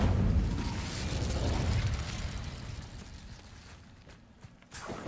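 Incendio fire spell cast in Hogwarts Legacy, a loud rushing burst that roars at the start and tails off into a softer hiss, followed by a brief sharp pop at the end.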